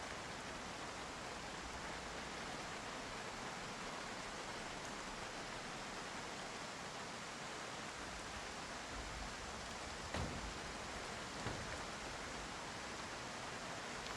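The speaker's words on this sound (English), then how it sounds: "It just keeps raining." Steady, dense rain falling without pause in the Project Zomboid video game, a continuous broadband hiss that stays even throughout, close and fairly loud, with no speech.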